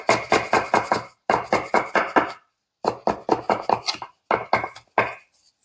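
A knife chops dumpling filling ingredients on a cutting board in a home kitchen, sharp rapid strokes coming in quick bursts separated by short pauses, close and distinct with no talk.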